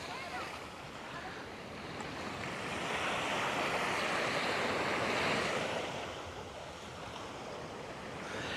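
Surf rolls onto the shore at Clifton Beach, a broad steady wash of breaking waves swelling louder through the middle and easing off again, with wind rumbling across the microphone.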